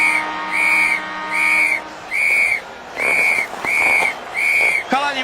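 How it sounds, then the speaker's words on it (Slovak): A new whistle gives seven short, sharp blasts at an even pace, each clear and loud, then a final wavering, warbled note. "mám novú píšťalku"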